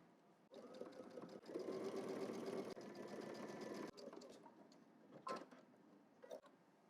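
A sewing machine stitches across one side of a flap, a steady close mechanical whir that runs for several seconds, pauses briefly, restarts, then gives way to a few clicks and handling knocks.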